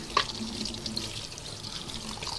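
Tap water runs into a kitchen sink while strained homemade cottage cheese curds are rinsed, a steady close splashing flow with a brief sharper splash near the start.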